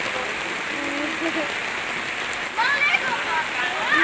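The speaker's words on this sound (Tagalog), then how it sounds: "Ala ni kusog ang ulan." Heavy rain falls in a steady, dense wash of noise that holds throughout, with faint voices in the background and a brief higher whistling sound near the end.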